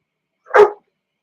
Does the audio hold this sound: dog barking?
yes